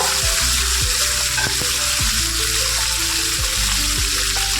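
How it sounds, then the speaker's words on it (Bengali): Pomfret fish frying in a pan, a loud, continuous oily sizzle with intermittent crackles and pops close up, no voices over it. "মাছগুলো সুন্দর করে এপিট ওপিট করে ভেজে নেব"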